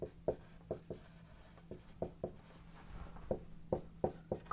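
Pen scratching across paper while a chemistry synthesis is written out by hand, a quiet run of short irregular strokes and taps close up, with no talking.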